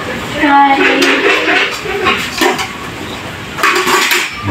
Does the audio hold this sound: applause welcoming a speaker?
no